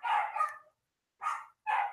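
Small dogs begging for treats let out a burst of close, high yapping barks, four short yips in two pairs separated by a brief quiet gap.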